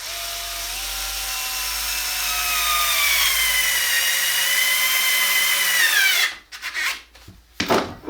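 A power drill whines steadily into wood at an angle for about six seconds, pitch sagging slightly under load, then stops with a few short bursts and handling noises.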